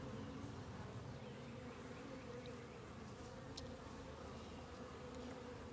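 Honeybees buzzing steadily around a hive, a continuous low drone of many insects with no pauses, moderately close and fairly quiet.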